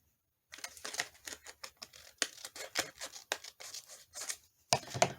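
Scissors snip paper for a Halloween journal in a quick run of crisp, close cuts and rustles, a steady patter of short strokes on its own without voices.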